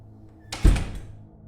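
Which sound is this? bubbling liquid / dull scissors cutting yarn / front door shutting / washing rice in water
front door shutting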